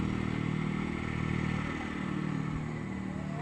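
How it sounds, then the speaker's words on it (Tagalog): Grandfather's motorcycle running close by, a steady low engine drone with faint clatter and a slight rev, continuous for the whole stretch with no talk over it. "Kay Lolo yung motor."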